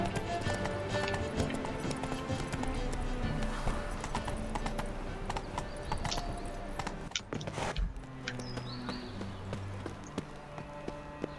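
Geralt's horse Roach in The Witcher III clip-clops steadily across a busy game soundscape, hoofbeats continuous and fairly close, with a brief whinny-like sound and music and ambience around it.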